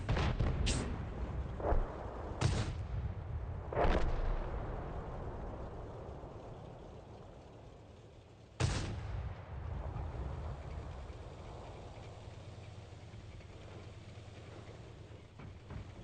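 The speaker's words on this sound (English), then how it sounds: "Or we're talking about the new gun sounds." Heavy tank cannon fire in World of Tanks: several deep booming shots with long rumbling tails, a loud blast near the middle, and a steady low engine-like drone underneath.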